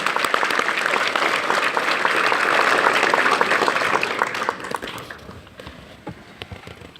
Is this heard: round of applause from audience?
yes